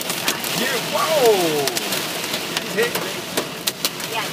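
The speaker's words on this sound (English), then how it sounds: "Look at the size of these hails, eh?" Pea-sized hail striking a car during a storm in Oro Medonte, a dense patter of small sharp ticks and clicks over steady rain-like hiss, with people talking nearby.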